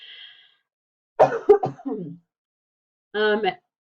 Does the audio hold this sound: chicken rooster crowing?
no